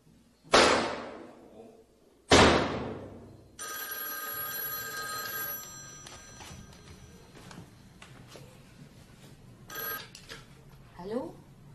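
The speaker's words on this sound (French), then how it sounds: "Juste comme je rentrais dans l'appartement, le téléphone sonnait." A telephone bell rings indoors in an apartment, two sharp loud rings close together, followed by a sustained tone and clatter before a voice speaks.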